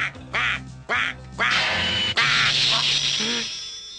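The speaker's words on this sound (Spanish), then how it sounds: "pero será un pato." A cartoon duck quacks in loud, nasal bursts, several separate quacks in quick succession followed by a longer drawn-out squawk, close and clear.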